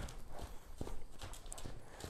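A young green horse trotting loose in an open area, its hoofbeats landing as a steady, moderately close clip-clop rhythm with soft thuds and no voices.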